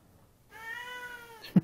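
A person imitates a cat with a single drawn-out, mewing meow lasting about a second, quiet and close, ending in a brief soft thump.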